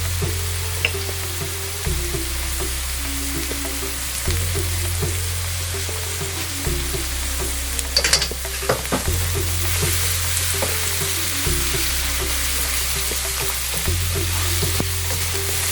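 Onions sautéing in a kadai toward dark brown: a steady oily sizzle with occasional scraping stirs and clinks of the spoon, close by, over a low cyclic hum in the background.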